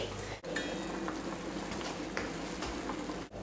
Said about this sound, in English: I normally like to boil the meat for about 5 minutes or so